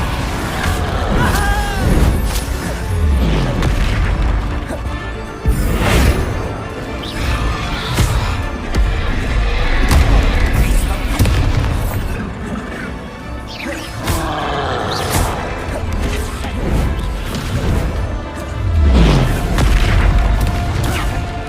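Heavy spell blasts and crashes in Hogwarts Legacy combat, a steady barrage of loud booms, whacks and bursting impacts following one another over the whole stretch.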